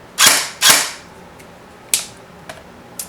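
G&G GR4 G26 airsoft rifle firing with pneumatic blowback, two quick sharp shots followed by a few lighter single cracks, close and dry with no talking.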